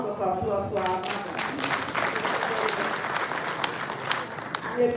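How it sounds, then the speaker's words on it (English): An audience at a community event in Montreal applauds continuously, a dense wash of many hands clapping at steady loudness, with a voice talking over it near the start. "A round of applause for our mother."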